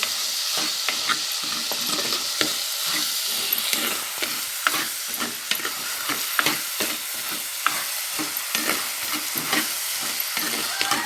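Garlic and navadhanya grains sautéing in sesame oil, a dense constant sizzle with quick repeated stirring scrapes throughout, close and loud.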